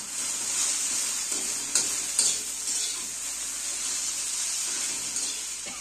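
Okra frying in a pan with turmeric, a steady bright sizzle with occasional stirring scrapes and clinks, close and continuous throughout.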